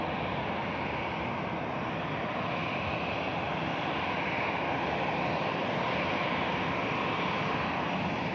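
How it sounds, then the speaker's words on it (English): Airbus neo jet taking off from Manchester Airport bound for Corfu: a steady, broad engine roar, moderately distant and unbroken, holding an even level from start to finish. "Heading out to Corfu, the Neo takes to the skies"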